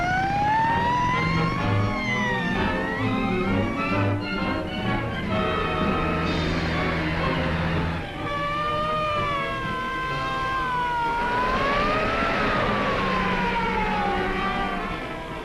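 Police car siren wailing in a rising and falling pattern, loud and close, continuous over engine rumble, sweeping up and down several times with no voices.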